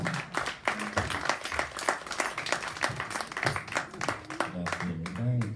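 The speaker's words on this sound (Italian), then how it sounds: "Applauso." Clapping from an audience at a Sardinian poetry event for women poets, with irregular claps running beneath people talking throughout.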